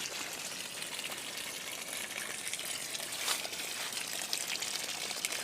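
Steady rushing and splashing of water pumped by a solar-powered 24V submersible pump pouring continuously into a pond, a broad even gush with no voices, fairly close.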